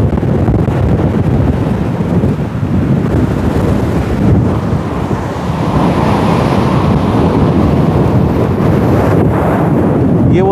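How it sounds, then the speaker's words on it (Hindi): Strong, aggressive sea waves surge up Chettikullam beach in Kanniyakumari, a loud, continuous surf roar with wind buffeting the microphone throughout. "देखिए कितना अग्रेसिव हो रहा है, पानी कितना तेज है और कितनी दूर तक आ रहा है।"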